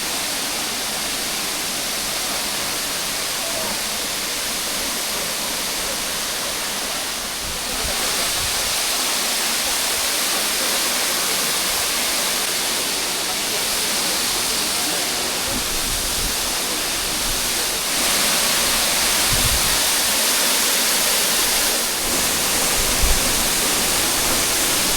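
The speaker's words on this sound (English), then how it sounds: "This is Mokpha Waterfalls." Mokpha Waterfalls in Thailand roar as a steady, dense wash of falling water, close and loud, filling the whole scene without a break and with no voices over it.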